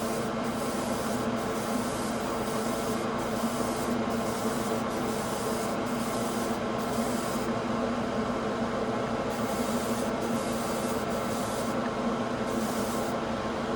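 An airbrush with a dual-action trigger lays down light coats of paint at a workbench, giving a steady, continuous airy hiss with faint periodic pulses as the trigger is worked, close and unbroken throughout.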